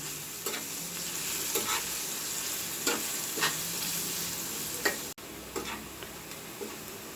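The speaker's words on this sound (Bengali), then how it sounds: "পেঁয়াজটা ব্রেস্তা করতে চলে আসলাম।" Onions browning in a frying pan with a constant sizzle, punctuated by regular spatula taps and scrapes every second or so, close and unaccompanied by speech.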